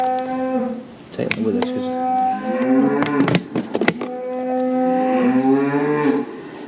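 Cattle moo repeatedly near a feed bin on a farm, long low calls overlapping one another, with a person speaking briefly and clattering thumps in the middle.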